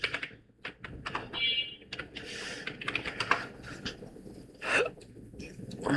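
Bursts of rapid keystrokes on a computer keyboard, close and fairly quiet, clattering in short irregular runs with small pauses between.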